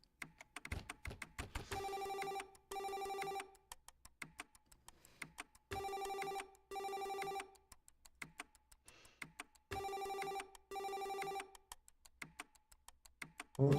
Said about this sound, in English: Won't somebody answer the phone?